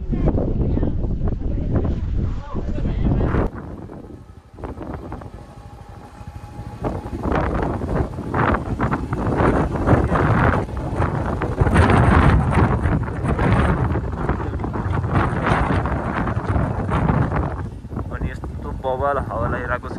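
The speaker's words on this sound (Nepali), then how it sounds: "बबाल हावा लागिरहेको छ कि बाइक एउटा जस्तो भइरहेको छ अहिले" Strong wind roaring and buffeting a microphone on a motorcycle ride through Upper Mustang toward the Korala border, loud and gusty throughout, with a voice talking over the rushing noise.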